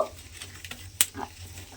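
A brief, quiet sizzle of a small pinch of asafoetida hitting hot oil, with a sharp clink near the middle and faint stirring noises.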